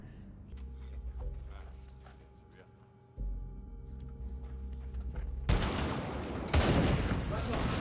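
Gunfire erupts in The Walking Dead: Daryl Dixon after a quieter tonal stretch, a loud, dense volley of shots that continues with a second harsh burst near the end.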